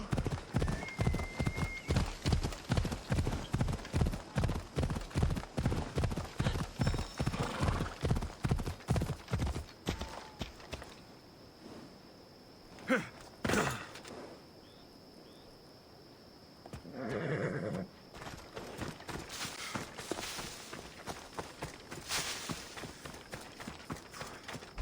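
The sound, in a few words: horse galloping and neighing in Assassin's Creed Odyssey video game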